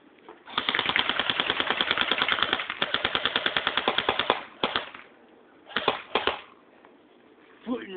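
An AK-74U rifle fires a long rapid fully automatic burst, then a few shorter bursts and single shots, loud and close, with quiet gaps between.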